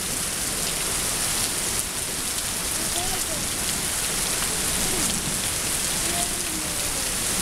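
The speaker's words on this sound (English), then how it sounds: "It is raining." Steady heavy rain falls outdoors, a dense constant hiss of drops on surfaces, close and unbroken, with faint voices briefly audible underneath.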